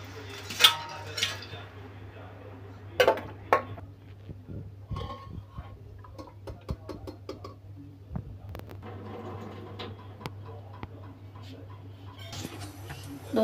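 Boiled lotus stem being lifted out of a cooking pot, with scattered clinks and scrapes of a utensil against the pot and a steady low hum underneath, fairly quiet throughout.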